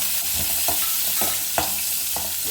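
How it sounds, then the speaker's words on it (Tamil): Dried rock fish fries in oil with a strong continuous hiss and crackle, broken by rhythmic scraping strokes of a spoon in the pan, close and loud. "கருவாட்டை கொஞ்சம் பொரிய எடுத்துக்கிறோம் எண்ணெயில்"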